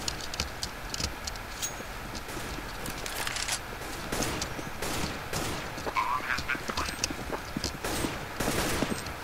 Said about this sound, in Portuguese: Onde é que eles estão atirando?